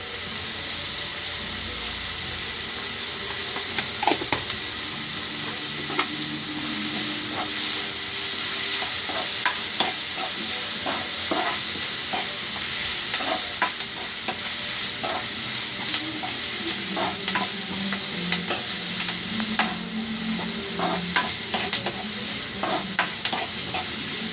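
Turmeric powder sizzles in a hot oily pan while a spoon stirs and scrapes, giving a steady frying hiss broken by frequent short clinks and scrapes, close and moderately loud with no talking.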